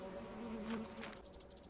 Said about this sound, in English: The only time that these bees will re-aggro is when you bring their own hive close to them.